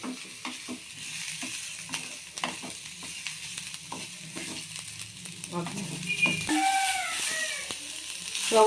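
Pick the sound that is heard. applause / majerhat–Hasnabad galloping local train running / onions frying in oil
onions frying in oil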